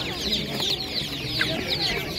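Many chickens, including young broilers, clucking nearby at an animal market in Ivano-Frankivsk Oblast, Ukraine, in a busy, overlapping chatter, with a few sharper squawks standing out from the steady flock noise.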